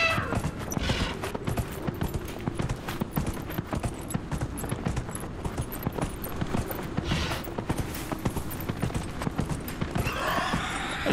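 Horse hooves clip-clopping in Dragon Age Inquisition as the player's steed trots, a steady rhythmic patter of close hoofbeats with creaking tack, a whinny near the end.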